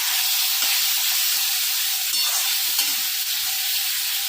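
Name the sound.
fried capsicum and onion added to pan, frying and stirring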